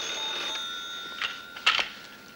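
A desk telephone in a police station office rings with a steady electronic tone, holding a sustained ringing pitch with short louder pulses, close and moderately loud with no talking.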